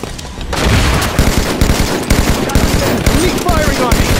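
Rapid bursts of video game gunfire from a Ghost Boost match, loud, dense and continuous automatic shots with some voice chatter mixed in.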